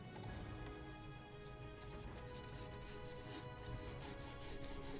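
Thin wooden strips for a Model Shipways model of the 1776 gunboat Philadelphia are sanded by hand, a close, continuous scratchy rubbing with rhythmic back-and-forth strokes growing more distinct toward the end.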